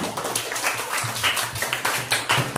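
A classroom audience in a teacher training session applauds a group returning to their seats, with brisk, dense clapping throughout that stays fairly steady and close.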